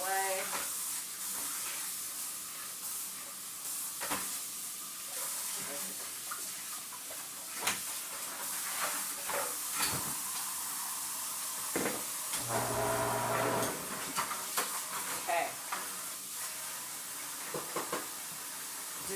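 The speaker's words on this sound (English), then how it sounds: "I go along while this chicken is frying." Mustard-coated chicken thighs fry in a pan with a steady, close hiss and sizzle that runs throughout, swelling briefly midway, with someone talking over it at times.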